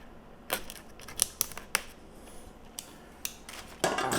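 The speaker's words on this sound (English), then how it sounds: "We'll break the seal here." Plastic seal and wrapping on Stax SR-X9000 flagship headphone packaging being torn and handled, a handful of sharp crinkling snaps and crackles spread over a few seconds, close and fairly quiet, with no voices.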